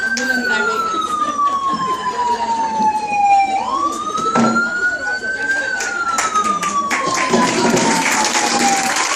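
A wailing siren sweeps slowly down and up in pitch, loud and nearby over background commotion and voices.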